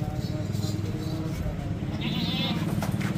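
Goats bleat amid crowd noise and talk as pregnant goats are loaded one by one on a Pakistani goat farm, the animal calls brief and mixed into steady background chatter.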